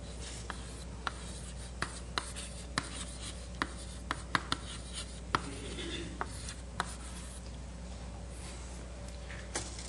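Chalk tapping and scratching on a board during a mathematics lecture on vertex algebras, a series of sharp, quiet clicks and strokes at an uneven pace over a faint room hum, with no talk.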